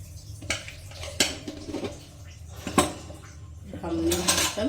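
Freshly washed metal utensils, pots and pans clatter and clink as they are handled in a home kitchen, with several sharp knocks spread irregularly over a low background hum.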